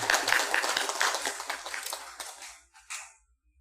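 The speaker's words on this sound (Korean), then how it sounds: "축하 박수해 주셔야 합니다" Congregation at a Korean Methodist Sunday worship service clapping in celebration, a soft burst of applause that quickly thins out and fades to silence.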